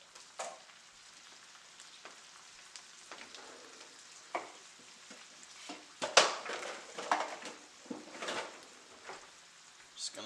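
A splash of braising liquid hitting a pan of bacon and squirrel meat for carbonara, with soft sizzling and scattered clinks and stirring scrapes, close and moderately quiet.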